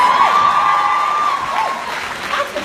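A crowd at a Supernatural fan convention panel in New Jersey claps and cheers loudly up close, a dense burst of applause that tapers slightly over a couple of seconds, with whoops mixed in.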